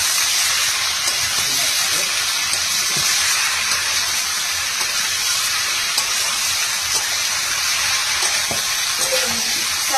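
Jackfruit and prawn curry with potatoes cooking in a pot gives a steady, loud sizzling hiss that runs unbroken throughout, close up and alone.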